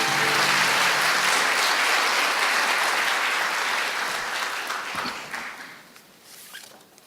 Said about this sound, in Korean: 대학 발전에 여념이 없으신 총장님께 박수를 부탁드리겠습니다.